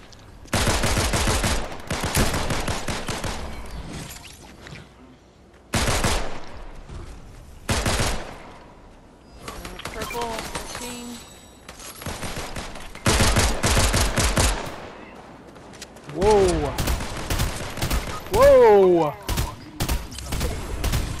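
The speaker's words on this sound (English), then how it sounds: "they heard all them shots going off" Bursts of Fortnite gunfire come in several loud clusters of rapid shots separated by short pauses, with players talking over and between the volleys.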